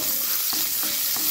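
Onion sizzles steadily in hot oil with mustard seeds and curry leaves, with three soft spatula scrapes at an even beat, close and continuous, no voices.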